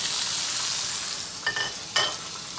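Sliced tomatoes, onions and green pepper sizzle in a grilling pan with a steady hiss, broken by two brief clinks of a utensil against the pan near the end.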